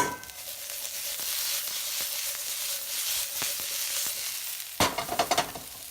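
Lyonnaise potatoes fry in a pan with a continuous crackling sizzle, dotted with light scraping stirs, and a few sharp clatters of a utensil near the end.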